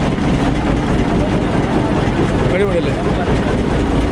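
A small train-like vehicle running on a short track at the Elephanta Caves near Mumbai gives a steady low engine rumble and idle throughout, while a voice speaks briefly over it.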